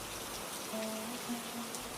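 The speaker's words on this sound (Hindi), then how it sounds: "बारिश अब हल्की फुहार में बदल चुकी थी।" Light drizzle patters softly and evenly as a faint, continuous hiss, with a few thin tonal traces drifting through the quiet background.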